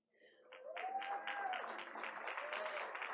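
A room full of people bursts into applause for an honored math teacher at a school board meeting, with dense clapping that swells in quickly and stays steady, while a voice briefly rises over it.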